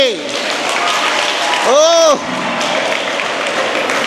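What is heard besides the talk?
audience clapping in welcome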